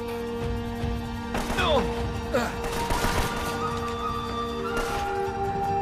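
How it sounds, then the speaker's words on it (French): A large turret in the Uncharted video game fires a burst of heavy, crashing gunshots mixed with impacts, followed by quieter game ambience, with a voice speaking faintly in the background. "la grosse tourelle est en train de nous tirer dessus"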